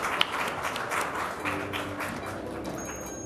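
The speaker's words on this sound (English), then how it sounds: "Everyone, let's give a warm round of applause to her." Brief applause from an audience at a tourism awards ceremony for a conservationist, scattered claps over a dull, moderately loud room background.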